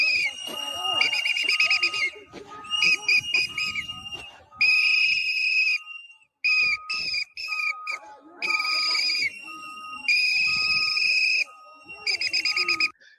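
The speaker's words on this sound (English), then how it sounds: "he's walking behind ICE agents blowing a whistle in their ear" A whistle is blown right behind ICE agents at a street confrontation. Repeated long, shrill blasts come in bursts with short gaps, loud and close, over faint background voices and outdoor noise.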